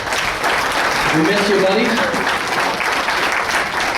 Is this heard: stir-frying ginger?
no